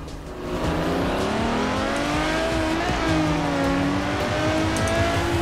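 A Ferrari race car in Forza Horizon 4 accelerates hard off the start line, its engine note rising steadily and loud, with other cars roaring alongside and a brief tire squeal.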